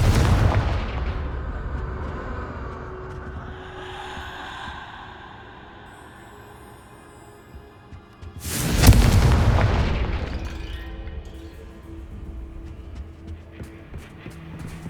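Confringo blasting spell explosions in Hogwarts Legacy, a low rumbling boom at the start, then a loud sharp blast midway that fades into a rolling tail.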